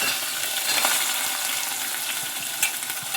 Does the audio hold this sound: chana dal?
yes